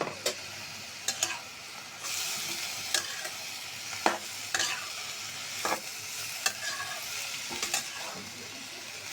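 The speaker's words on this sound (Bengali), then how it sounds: "ভালো করে নেড়ে ঝেড়ে আমি আলুগুলি সুন্দর করে কষিয়ে নেব।" Potatoes stirred and fried in a pan with chili powder and ginger-garlic-onion paste, a steady sizzle broken by repeated scraping strokes of the spatula, close and continuous with no talking.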